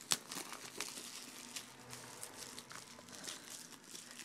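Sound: shrink wrap being torn off a PS3 game box

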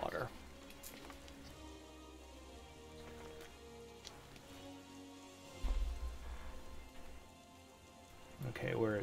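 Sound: rain falling in the video game Final Fantasy XIV

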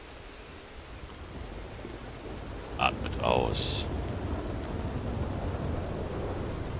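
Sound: approaching thunderstorm with rain

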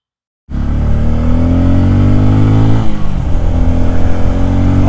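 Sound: 2024 Bajaj Pulsar N250 motorcycle riding

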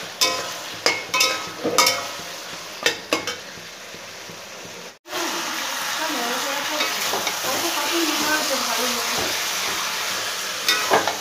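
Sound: onions frying in a pan

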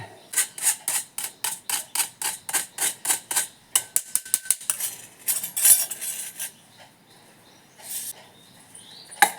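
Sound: spoon mixing gram flour powder in bowl

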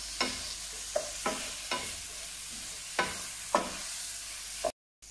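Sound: rice and mushrooms frying in pan

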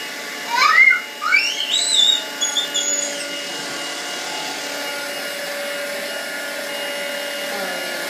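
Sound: vacuum cleaner running

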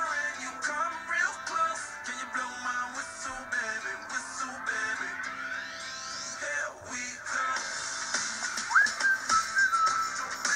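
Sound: whistling in a song

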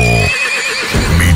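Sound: horse neighing

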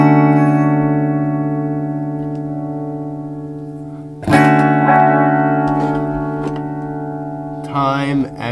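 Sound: electric guitar played through chorus effect pedal

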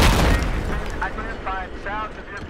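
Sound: tank firing explosion in video game Battlefield 4

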